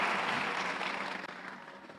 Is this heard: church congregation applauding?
yes